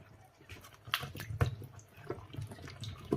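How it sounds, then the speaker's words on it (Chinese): Peeled garlic bulbs are swished in a basin of Yangtze River water, making soft, close splashes and irregular drips and sloshes that are quiet and uneven. "接着我们往里面加入适量的长江水，给它洗一下，洗去大蒜表面的泥土和灰尘。"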